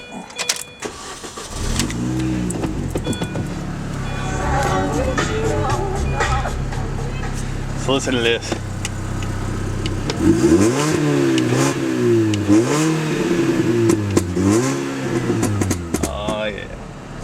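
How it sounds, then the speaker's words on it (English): A 2006 Mini Cooper S with a high-flow exhaust and 6-speed manual cranks and fires up, settles into a burbling idle, then gets blipped through several sharp, loud revs. Someone talks briefly before and during. "I'm going to start this thing up so that you can hear what it sounds like with the high flow exhaust"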